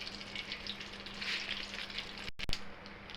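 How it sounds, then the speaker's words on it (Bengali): Dried red chillies and nigella seeds crackling in hot oil as a tempering, a close steady sizzle with bright spitting bursts and a sharp clatter just after the midpoint. "ফোড়নের জন্য শুকনো লঙ্কা দিয়ে দিলাম, অল্প করে কালি জিরা দিয়ে দিলাম"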